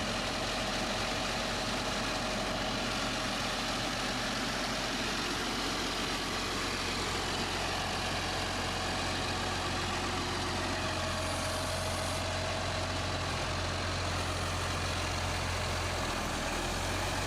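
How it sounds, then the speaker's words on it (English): Steady diesel engine drone from a New Holland T8 Tier 4 tractor as it drives, a continuous low rumble with a constant hum, close and fairly quiet with no talk. "Now we're just driving the tractor back to the center line of where we started."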